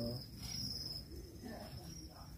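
Farmed crickets chirp in a high, steady trill that carries on without a break. A faint low rumble sits underneath, and no voices are heard.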